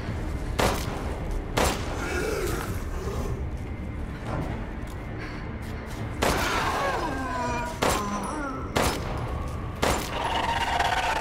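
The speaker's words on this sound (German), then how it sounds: "Wieder ein Schuss nicht gezählt." Sharp bursts of synthetic gunfire in Resident Evil Village's Shadows of Rose ring out repeatedly, some in quick clusters, loud and up close over a constant game soundtrack rumble.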